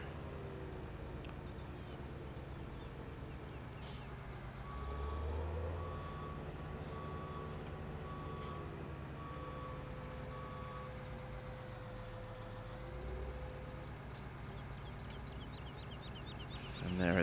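In a farming video game, a truck reverses with steady, evenly spaced beeps under a constant engine drone and background hum, moderately faint and continuous for several seconds.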